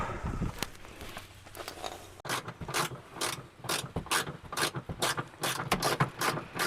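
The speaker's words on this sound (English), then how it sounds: "that's where you put the bolt in. Tighten it up." A ratchet tightens a bolt during a vapor canister vent solenoid repair on a 2008 Chevy Impala, producing close, fairly quiet bursts of rapid clicking in an uneven back-and-forth rhythm with no talk.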